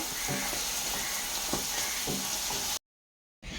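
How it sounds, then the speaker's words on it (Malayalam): Meat sizzles and crackles steadily in hot oil, with occasional stirring scrapes, then cuts to brief silence before the frying resumes. "ഇനി ഇത് ജസ്റ്റ് ഒന്ന് പൊരിക്കാം"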